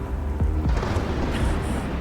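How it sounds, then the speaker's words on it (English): A thunder sound effect within a musical rumbles low and booming, with a couple of brief cracking sweeps, heard faintly beneath a dense mix. "Sounds of thunder."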